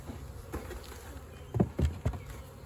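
A sizeable honeybee swarm hums steadily around a swarm-catching setup, with a few louder buzzing passes as bees fly close by.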